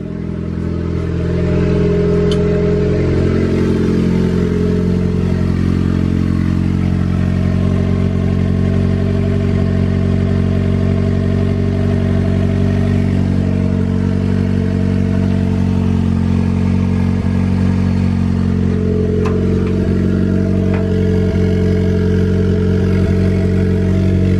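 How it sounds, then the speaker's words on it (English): Car engine fitted with an aftermarket eBay turbo kit and an open downpipe, running loud and steady with a deep droning rumble and slight shifts in pitch, close and continuous, with no talk. "Bro, it is alive. Turbo spooling."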